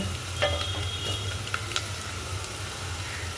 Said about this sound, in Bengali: পেঁয়াজগুলো দিয়ে ভালো করে নাড়াচাড়া করে নিলাম, একটু লাল লাল করে ভেজে নেব